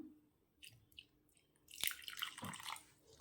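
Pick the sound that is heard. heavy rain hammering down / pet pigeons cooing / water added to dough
water added to dough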